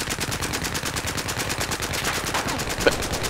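Rapid automatic gunfire in Battlefield 4 rattles in an unbroken stream of evenly spaced shots, loud and sustained throughout, with a single sharper bang near the end and no talking.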